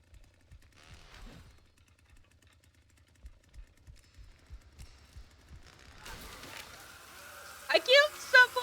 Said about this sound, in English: The chainsaw overheated.